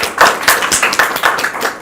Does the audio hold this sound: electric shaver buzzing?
no